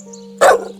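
A single sharp, close dog bark rings out once against a steady low hum, then fades quickly.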